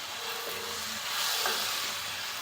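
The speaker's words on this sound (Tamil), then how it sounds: "இப்போ நம்ம தக்காளி பொடியாக அதையும் கட் பண்ணி அதையும் சேர்த்துடலாம்." Chopped tomatoes frying in an oiled pan for dried anchovy (nethili karuvadu) thokku make a steady, low sizzle that runs throughout, with a faint stir or scrape near the middle and no talking.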